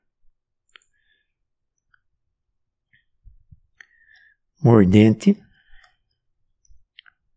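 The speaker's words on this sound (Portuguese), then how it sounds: "Vamos dar um clique aqui" A computer mouse is clicked during CAD work on a bench vise model. Sparse, sharp, isolated clicks land in a very quiet room, with one short spoken word in the middle.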